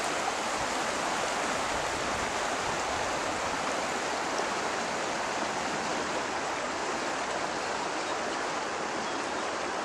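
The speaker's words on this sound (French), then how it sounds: "nous sommes à présent dans un coin plutôt actif de la rivière" Steady rushing river current through a narrow channel, a continuous broadband wash with no pauses, close and fairly loud throughout.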